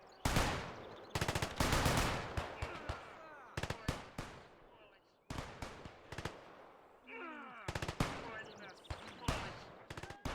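Rifle and machine gun fire in the Gates of Hell: Ostfront war game, with loud close bursts of rapid automatic shots and single cracks echoing across the battlefield in uneven volleys with short gaps.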